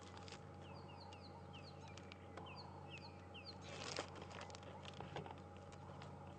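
Coqui francolin spurfowl on an evening safari drive, sending out repeated high, thin chirping calls in a steady series against a constant low hum of background noise and insect drone.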